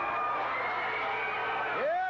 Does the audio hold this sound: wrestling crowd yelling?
yes